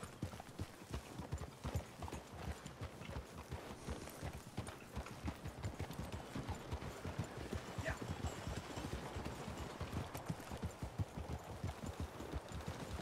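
Hooves of a horse pulling a cart in the Western roleplay video game RedM clip-clop in a steady, quick, continuous rhythm, fairly close and dominant throughout, with faint background noise and no clear talk.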